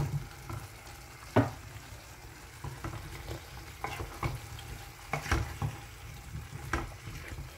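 Potatoes frying in a pan in a home kitchen, giving a low, steady sizzle broken by scraping stirs and occasional louder clinks of a utensil against the pan.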